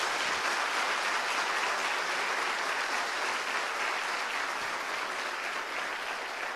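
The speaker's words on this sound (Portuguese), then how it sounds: "Vamos aplaudir o nosso Deus bem forte." A church congregation claps hard and continuously, a dense, even wash of applause holding at full strength throughout.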